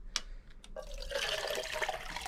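Water is poured into a large emptied cream of chicken soup can for a Dutch oven chicken and noodle meal, a steady close splashing flow after a couple of brief clinks.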